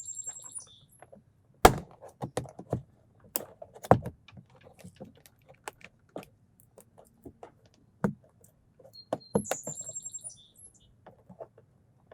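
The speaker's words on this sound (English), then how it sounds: "Once that, just easily remove the rest of this wood trim." Wood trim panel being pried off inside an Audi Q5 with a putty tool, sparse close plastic clicks, snaps and scratchy taps in irregular bursts against a quiet background, with a few sharper loud cracks.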